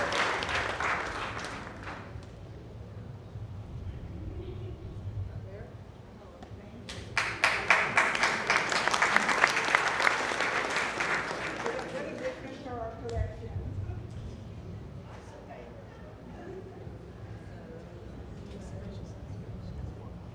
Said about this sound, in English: Another round of applause for that beautiful piece of